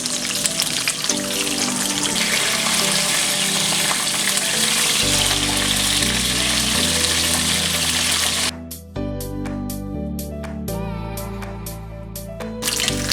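Vegan vital wheat gluten steaks, seasoned with coconut aminos and liquid smoke, fry in a pan with a loud, steady sizzle that runs throughout alongside tonal background music.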